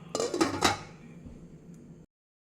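A pot of water being handled in a kitchen before boiling pasta: a few close metallic clanks and clinks of the pan, then a fading ring and quiet before it abruptly stops.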